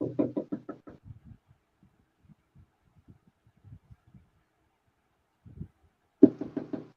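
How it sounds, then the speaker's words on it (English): Rapid knocking on a door, a quick burst of about eight firm raps at the start, scattered faint taps in the middle, then another loud burst of knocks at the end. "Let me knock on the door."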